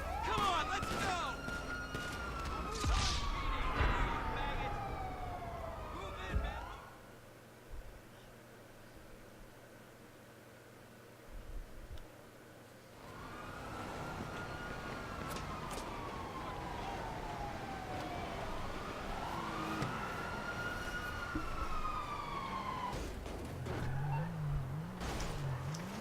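Police sirens wail and sweep up and down in the GTA V Online video game, loud and continuous for the first seconds, fading out in the middle, then returning with overlapping wails beside car engine noise and street sounds.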